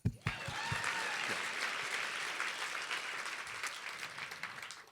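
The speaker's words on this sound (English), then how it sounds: "I think we should clap for that." Sustained audience applause fills a demo day hall at a sustainability accelerator event, steady and dense throughout, with a few brief louder hits at the very start.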